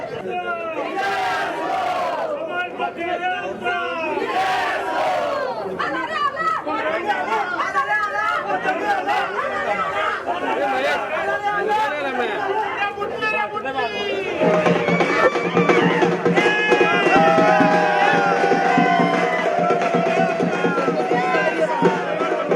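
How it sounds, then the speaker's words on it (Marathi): Members of a film federation celebrating an election win with Meghraj Bhosale: dense crowd cheering, shouting and chanting together, loud and continuous, swelling louder after about fourteen seconds. "निकाल घोषित झाल्यानंतर मेघराज भोसले आणि त्यांच्या सर्व सभासदांकडून जल्लोष करण्यात आलेला आहे।"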